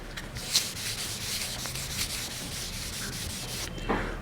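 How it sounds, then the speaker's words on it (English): A hand rubs steadily across a surface, a continuous dry sanding-like friction that runs evenly from start to finish at moderate loudness, with no voices over it. "So I am rubbing this side."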